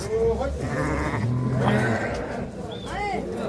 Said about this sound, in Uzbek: Qo'zilarni qarang.